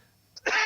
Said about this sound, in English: I made you cough.